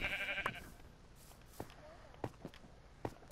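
A sheep bleats once up close in the Minecraft video game, followed by a few sparse, faint footstep-like taps.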